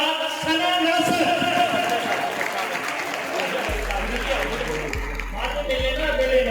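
An audience at a children's Quranic calligraphy and handwriting competition claps steadily for the first-place winner, a dense sustained patter of applause running under a speaking voice.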